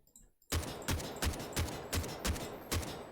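Seven evenly spaced single gunshots fired on a Delta Force Hawk Ops firing range, each a sharp, loud crack with a short decay, arriving in a steady rhythm after a brief quiet start.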